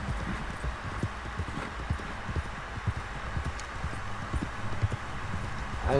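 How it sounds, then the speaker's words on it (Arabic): Hooves of a single running horse clip-clop in a quick, steady rhythm, moderately close and continuous throughout, with a faint background hum. "انا مش شايف غير حصان واحد بس يا شباب اللي بيجري قدامنا ده"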